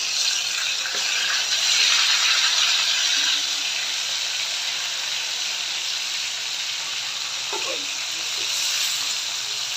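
Hilsa fish pieces laid into hot mustard oil in a frying pan, making a steady loud sizzle and hiss that lasts throughout with a few soft stirring clicks.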